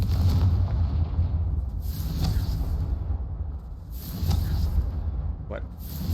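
Confringo fire spells burst in a wizard video game, several heavy booming blasts rolling in at intervals amid continuous game noise, with a voice speaking over them.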